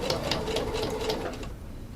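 Sewing machine stitching a fabric belt gives a rapid, steady whirr of needle strokes up close, then stops abruptly in the last half-second.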